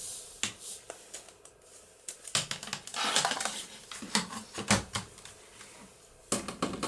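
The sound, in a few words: trimming paper to length for window tags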